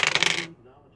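Several dice tumble and clatter across a tabletop during an army men battle game, a quick bright rattle lasting about half a second before fading into a quiet room.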